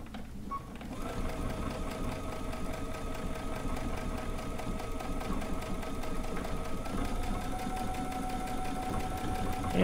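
A sewing machine stitching a bucket hat seam, a fast continuous mechanical whirr with a steady rapid needle rhythm, close and loud for the whole stretch.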